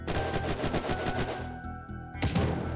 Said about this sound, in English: Oh, someone is shooting a rebel.